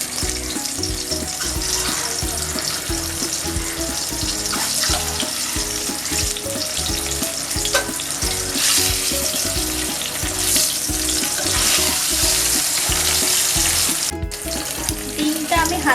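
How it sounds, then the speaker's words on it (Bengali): Eggs seasoned with salt and turmeric sizzle loudly and continuously in hot oil, a dense, close, steady frying crackle with no talk over it. "এবার আমি ডিমগুলো তেলের মধ্যে দিয়ে দিচ্ছি।"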